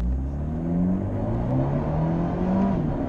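An Abarth 124 sports car engine with automatic gearbox revs hard to 6,000 RPM during a launch, climbing steadily in pitch, loud and continuous, heard from inside the vehicle with a droning rumble underneath.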